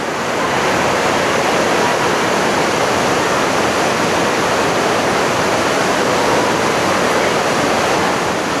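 Curug Ibun Pelangi, a river-style waterfall in Majalengka, roars as a steady, loud, dense rush of falling water that fills the whole stretch without a break.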